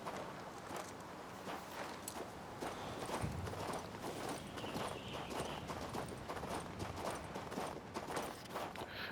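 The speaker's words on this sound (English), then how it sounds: "we can summon a horse just by pressing triangle" Steady clip-clop of a summoned horse's hooves trotting on a road in the video game Kings Bounty 2, with continuous rhythmic footfalls under a faint ambient wash.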